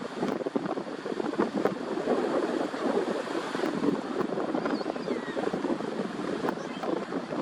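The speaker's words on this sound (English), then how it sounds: "I'm not actually going to do a lot of narration right now because of how much wind is happening." Strong wind blowing outdoors, a loud continuous roar and buffeting across the microphone with gusty surges, close and steady throughout with no voices.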